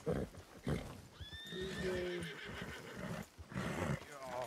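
A horse in a video game whinnies, a loud, wavering neigh that rises and falls, with hoof clatter around it and people talking over it.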